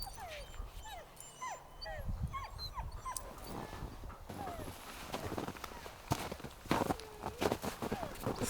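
Sled dogs whimper and yelp excitedly outdoors in snow, with footsteps and shuffling nearby, the barks fairly faint and scattered.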